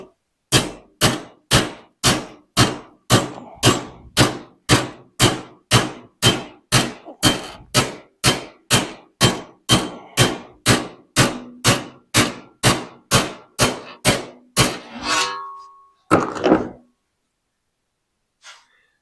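A steel hammer pounding a sheet metal front fender patch panel flat for an MGA, about thirty loud, evenly spaced metallic blows in a steady rhythm, then a few scattered taps and silence.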